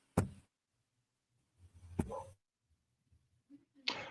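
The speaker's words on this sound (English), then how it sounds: "There's two dogs sitting out here barking day and night." Dogs bark outside a bedroom window, with two short sharp barks about two seconds apart and a faint yip near the end, heard from a distance in an otherwise quiet room.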